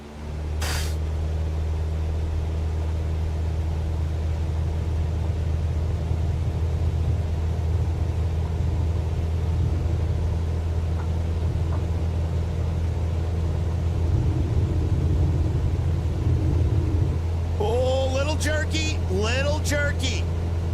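An airliner in Microsoft Flight Simulator rolls for takeoff with a steady, loud engine roar and rumble that builds gradually, while a voice talks briefly near the end.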